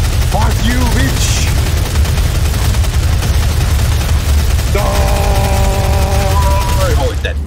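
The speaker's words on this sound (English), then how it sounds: "Chain gun." Steady, rapid chain gun fire in the virtual reality game Doom VFR, loud and continuous throughout with no breaks, plus a few brief game sound effects mixed in.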